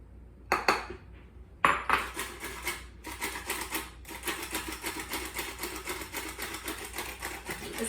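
Confectioners sugar being sifted for no-bake rum ball truffles, a dense rapid metallic rattling and scraping of a sieve that starts after a couple of sharp taps and runs on steadily and close.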